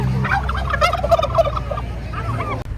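Birds call at a water park bird activity area, loud gobbling fowl-like calls in a rapid warbling burst, close by, with steady background noise.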